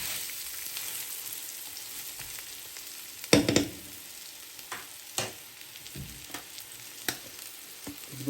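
River fish roe, salted and peppered, sizzles in a frying pan with a steady soft crackle, broken by a few sharp louder spits and pops, close and alone.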